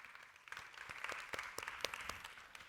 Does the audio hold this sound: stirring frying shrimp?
no